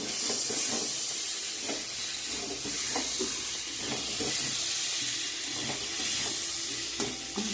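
Spiced chicken frying in a pan sizzles loudly and steadily after water is added, a dense close hiss with faint stirring scrapes throughout.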